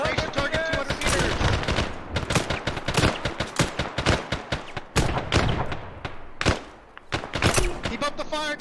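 A squad at target practice fires rapidly, giving dense, loud overlapping bursts of gunshots in quick succession with brief pauses, while voices shout commands over the firing.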